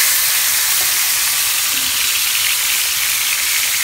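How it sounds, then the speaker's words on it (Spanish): Pork chops browning in a frying pan give off a loud, steady sizzle with an even broadband hiss and no break for the whole stretch. "Ahora hay que voltear nuestras chuletitas, se tienen que dorar así perfectamente"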